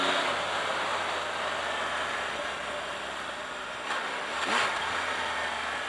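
A 2018 Triumph Tiger 1200 XCa motorcycle being ridden, its engine giving a steady mid-level drone with wind noise and a brief rise in pitch near the end as gears shift through the quick shifter.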